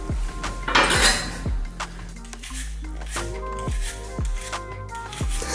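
Kitchen utensils being handled, a peeler and a sharp knife, with close metallic clinks and taps of steel on dishes and a board, several distinct knocks spaced irregularly, no talk.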